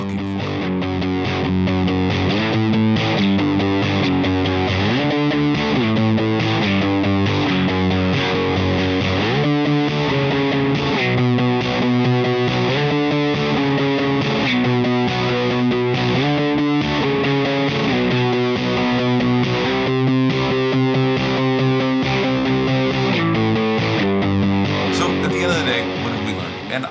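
Electric guitar played through a Marshall amp and a Boss DS-1 distortion pedal, a continuous loud distorted riff of chugging chords and moving notes running throughout, with no voices.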